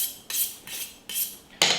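A kitchen knife is sharpened with four even, rhythmic strokes, each a bright metallic scrape drawn from base to tip, close and clear with short pauses between.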